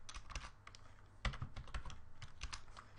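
A computer keyboard clatters as someone types code, irregular bursts of close, crisp keystrokes with brief pauses between them.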